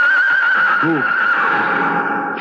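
A blue roan stallion neighs once, a loud rising and falling whinny with slight echo, heard as a radio drama effect, followed by a brief spoken word.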